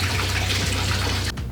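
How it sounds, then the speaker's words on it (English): Warm water runs steadily from a tap, a close, continuous gushing flow that stops abruptly near the end, leaving a short low-level tail. "I think I'm gonna prepare the warm water."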